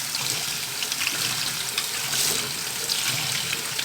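Running tap water pours steadily over germinated seeds being rinsed for canary and goldfinch feed, a close, continuous splashing hiss with slight surges and no voices.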